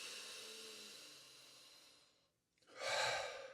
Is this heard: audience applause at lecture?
no